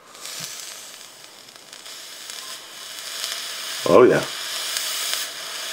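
An Asmodus Snow Wolf 50W vape mod firing its coil, with dripped e-juice hissing and sizzling steadily for several seconds under a brief spoken remark.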